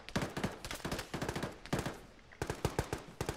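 Dense bursts of automatic rifle and machine-gun fire in the military simulation game Jackal Milsim Altis, with rapid volleys and short pauses, loud and close, with no talk over it.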